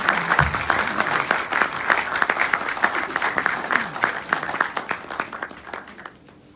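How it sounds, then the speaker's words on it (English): A room full of people gives a professor a warm round of applause at a lecture, many hands clapping loudly and evenly from the start before thinning out and stopping near the end. "Can we have a huge round of applause for Professor?"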